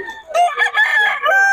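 A young gamecock stag crows once up close, a loud, strained, broken cock-a-doodle-doo with wavering pitch that lasts just over a second, with no talk over it.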